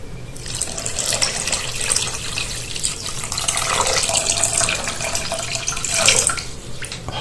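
Water pours steadily into a small saucepan holding sugar for syrup, a close, continuous splashing stream that swells and eases slightly over several seconds with no voices.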